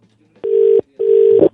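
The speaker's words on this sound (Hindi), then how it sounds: "घंटी बज रही है।" Two steady electronic ringback tones sound from a phone line, each about half a second long with a short gap between.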